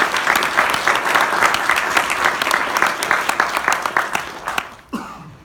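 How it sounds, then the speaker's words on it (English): Audience applause at a 2016 Pedal Power ACT election forum for three candidates, steady dense clapping from a crowd that holds for about four seconds, then tapers off and fades out. "keep the applause going for the three candidates"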